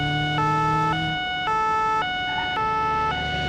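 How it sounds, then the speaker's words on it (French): French gendarmerie two-tone police siren from the BeamNG.drive driving game, alternating high and low notes in a steady, loud, repeating pattern with nothing else heard. "Cette sirène, on a l'impression que c'est la vraie gendarmerie."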